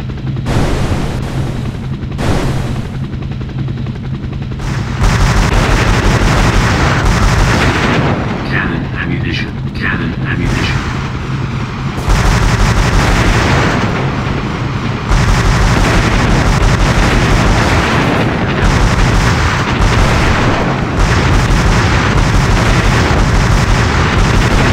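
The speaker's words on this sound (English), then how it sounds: "Missiles." Helicopter gunfire and exploding missiles and rockets in the video game Hell Copter, dense continuous booming blasts and rattling fire filling the whole stretch with barely any pause.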